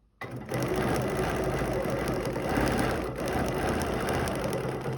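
A domestic sewing machine runs steadily while ruler quilting with a ruler foot, its even mechanical whir and needle chatter continuous and close, with no talking.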